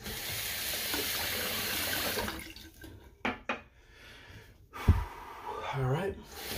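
Water runs from a bathroom tap while a razor is rinsed after shaving: a steady hiss of flowing water, then brief clinks and splashes and a short gulp as the water stops and starts again.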